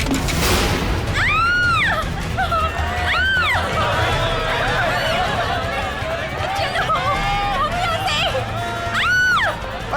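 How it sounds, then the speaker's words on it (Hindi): Several sharp gunshots ring out in a busy outdoor scene, each with a rising whine, spaced a few seconds apart over crowd noise, running feet and shouting voices. "अरे गोली चलने की आवाज कहाँ से आई?"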